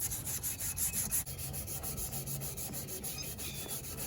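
Light hand sanding across a spray-painted old chrome fender gives a close, steady, rhythmic rasping rub with no talking.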